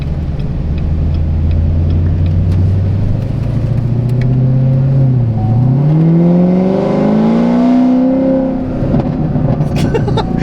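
A loud modified Corvette ZR1 engine revs up and down, its pitch climbing and falling with deep throaty roars as it accelerates close by.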